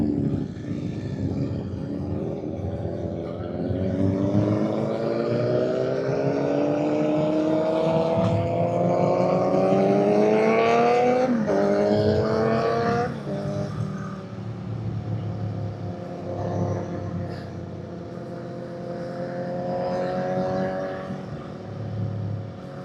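A group of motorcycles, a mix of naked bikes, sport bikes and cruisers, pulls away on a group ride, engines rising in pitch as they accelerate, close and steady, with wind noise over the riding.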